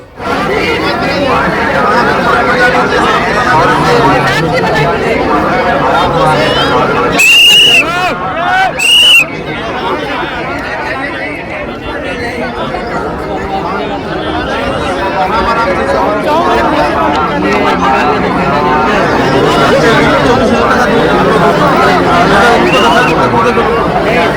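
Dense crowd hubbub of pilgrims at the Mahakumbh gathering near a bridge, with a train running alongside; a continuous loud babble of many voices fills the whole stretch, with two brief sharp high tones cutting through partway.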